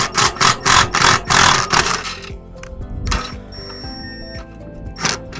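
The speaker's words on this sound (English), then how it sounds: "We're gonna loosen this scissor jack up." A steel RV scissor jack being loosened, giving a run of rapid metallic ratcheting clicks in quick bursts up close, then a scattering of sparser clinks and rattles.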